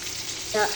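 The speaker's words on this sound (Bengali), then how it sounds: "বেগুনটা বাজিয়ে নিলাম" Eggplant frying in hot oil in a home kitchen, a short steady sizzle with a brief louder hiss near the end.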